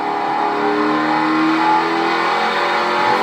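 A NASCAR truck engine at Richmond held on throttle, a loud continuous droning rev with steady harmonic tones, close and unbroken, with no voices.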